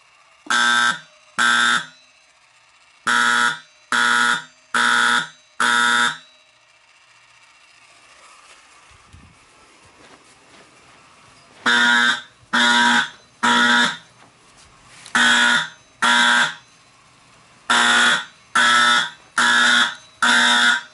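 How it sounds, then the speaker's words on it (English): An IBM 4030 fire alarm blares in loud repeating bursts, separated by pauses and heard from close by in groups of quick regular pulses. "This thing currently is the loudest alarm in my collection."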